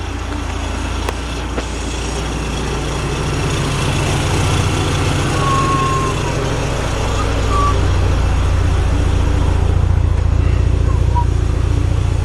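A car engine idling steadily just under 900 RPM, a constant low rumble heard close and continuous, with faint background noise and no clear speech.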